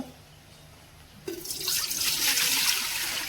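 Water is poured into an idli steamer pot for steaming momos, a sudden splashing pour that starts after a quiet moment and runs steadily to the end, close and fairly loud.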